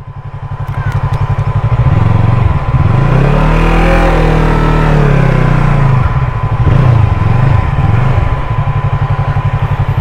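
Motorcycle engine revving up and down loudly and close by, with strong low engine harmonics rising and falling over several seconds before settling back toward idle, outdoors in a young town in Cebu.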